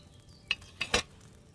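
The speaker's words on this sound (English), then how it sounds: "Hear that bubbling?" Wine bubbling in a cauldron set over a flame in the video game Kingdom Come Deliverance II: three brief, soft pops and gurgles in quick succession against a quiet background.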